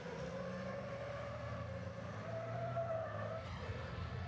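Race car drifting at the Jarama circuit, engine droning steadily with a sustained tire squeal rising and falling across the slide, loud and continuous.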